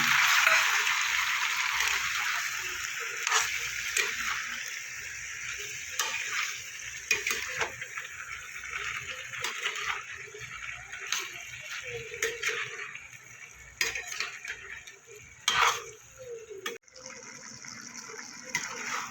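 Water poured into a pan of spiced potatoes and cucumber for a Bengali cucumber curry, then stirred: a gushing, splashing pour with wet scraping and clinks of a spoon against the pan, close and uneven.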